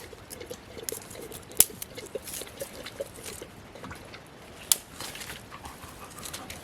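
A hound dog pants in quick, steady breaths at close range, with a few sharp clicks and faint trickling sounds mixed in outdoors at an evening bushcraft camp.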